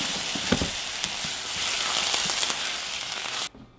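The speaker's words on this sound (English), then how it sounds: "Now we want to deglaze our pan with our white wine, and we're going to cook this for about another 2 minutes" Sun-dried tomatoes sizzle loudly in a hot pan after a splash of white wine, a dense crackling hiss with a few stirring knocks before it cuts off sharply near the end.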